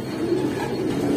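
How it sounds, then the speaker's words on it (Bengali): A Hurricane breed pigeon coos in a low, sustained rolling murmur, close and steady for a brief moment with no talking. "এটা একটা হেরিকেন জাতের কবুতর"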